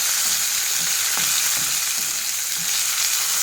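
Curry leaves, dried red chillies and mustard seeds sauté in hot oil in a pan, giving a steady, close hiss of frying with faint scattered pops and no voices.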